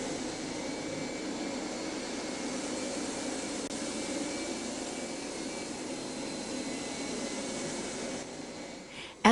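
Kirby G4 vacuum cleaner running with its carpet shampoo system, the suds valve off, as it passes over a foamed carpet: a constant close motor whine and airy roar that holds steady, then dips just before a sudden clunk at the end.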